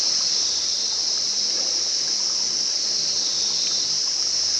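A natural waterfall roars as a steady, unbroken wash of falling water, loud and constant throughout with no other sounds standing out.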